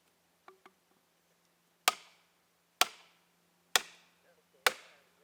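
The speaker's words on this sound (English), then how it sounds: "I'd hit the wedges and see if you get any lift" Metal wedges being hammered into a tree felling cut outdoors: after two faint taps come four sharp, loud strikes spaced about a second apart, each ringing out briefly.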